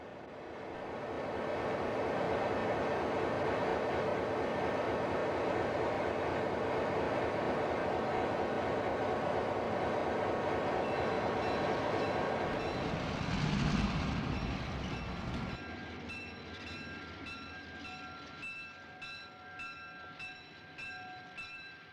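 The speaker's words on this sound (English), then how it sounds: "Once this SP freight passes by, a WP cab hop pulls up on the second track" An SP freight train passes by on a model railroad with a loud, sustained rumble and a blast of its horn. It drops off sharply, leaving a softer, rhythmic clicking of wheels on rail joints.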